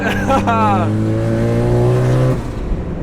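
A turbocharged tuned car's engine revs up loudly and holds a steady high drone before dropping off, with excited voices talking over it.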